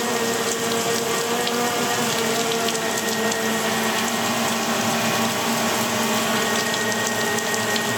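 Steady rain pours down continuously through a storm, a dense, even wash of hiss and patter that stays loud and unbroken from start to finish with no voices.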